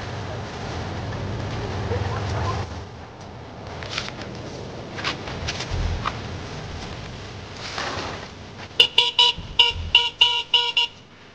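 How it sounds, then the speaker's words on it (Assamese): A car horn honks in a rapid series of short, loud toots near the end, following a stretch of road and engine noise. "হৰ্ণ বজাই থকা শুনা নাই"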